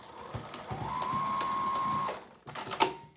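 A sewing machine runs in short bursts, then a steady whirring stretch as it stitches a loop in place on a fabric foldover pouch, followed by a brief pause and a few quieter mechanical clicks.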